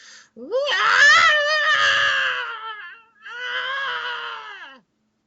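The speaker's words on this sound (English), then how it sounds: "And then you start to hear the screams." A person screams in torment in a loud, close, wavering cry that rises and strains. One long scream is followed by a short break and then a second, slightly weaker scream.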